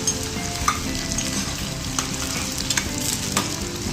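Grated ginger fries in hot oil for a spicy ginger chutney, giving a steady close sizzle with a few sharp spatula taps and scrapes and no talking.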